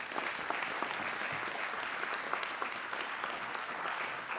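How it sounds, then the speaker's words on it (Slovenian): Sustained applause from a large audience at the opening of a digital technology conference, dense steady clapping with no voices over it. "Pa en aplavz, prosim, evo"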